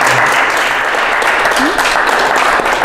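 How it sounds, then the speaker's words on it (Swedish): Audience applause at a museum panel discussion, a steady dense clapping that fills the whole stretch, loud and close with no talk over it. "Vi ger dem en applåd."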